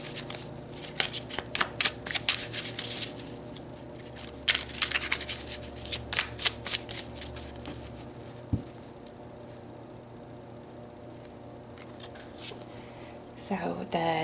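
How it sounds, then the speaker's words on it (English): Tarot cards riffle and slide in repeated close, crisp bursts as a deck is shuffled and cards are pulled, with a quieter stretch of handling and a final rustle at the end. "let's pull some cards and look at the internal and external energies"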